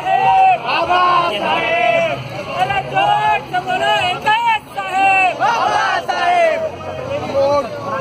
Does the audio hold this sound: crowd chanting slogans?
yes